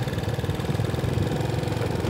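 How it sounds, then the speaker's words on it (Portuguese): A motorcycle engine drones steadily while riding along the PB 264 highway between São Sebastião do Umbuzeiro and the Paraíba–Pernambuco border, loud and close, with no talk during the stretch. "Deixa eu apressar um pouquinho a moto aqui para nós ver."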